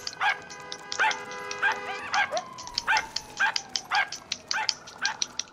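A dog in GTA 5 barks in a quick, regular series of sharp, close yips and woofs, some trailing into whimpering tones, with no talking over them.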